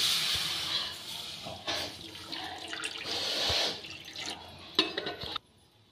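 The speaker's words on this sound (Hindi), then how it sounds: "उसी कढ़ाई में हम डाल देंगे दूध।" Milk poured into a kadhai while making a tricolour Indian sweet, a steady close liquid splash and trickle lasting several seconds before cutting off, with no talking.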